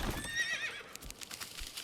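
A horse in the medieval town-building game Manor Lords lets out a close, loud, shrill whinny, followed by a few soft hoof clops and light rustling.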